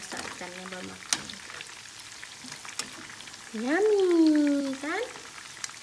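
Battered chicken pieces sizzling in hot oil in a home kitchen, a soft steady fry swelling louder for a second or so, with a child's and an adult's voices and a brief rising squeal over it.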